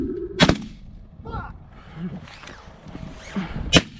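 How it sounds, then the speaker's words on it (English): Shotguns fire at ducks over a North Dakota corn field, two sharp close blasts about three seconds apart, with rustling and low voices in the blind between them. "Shoot that fucker, shoot that fucker,"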